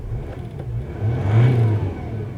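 A Mercedes GL320 engine idles after a turbo actuator repair, a steady low rumble from close by that swells briefly into a heavier rev before settling back.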